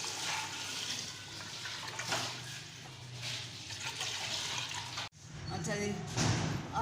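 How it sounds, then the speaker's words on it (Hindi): Heated water poured into a pot of mutton and potato curry, a steady close splashing and gushing stream running several seconds with a brief break near the end. "अब ये गर्म किया हुआ पानी डालते हैं।"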